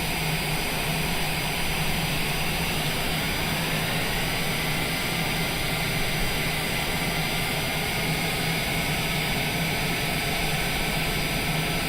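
Cessna Longitude jet engines taxiing in Microsoft Flight Simulator 2020, a loud, constant turbine roar with a high steady whine and a slowly rising tone partway through, no talking.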